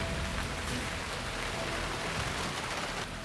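Heavy monsoon rain pours steadily as a dense, continuous hiss with no pauses, falling over farmland during an unseasonal early downpour.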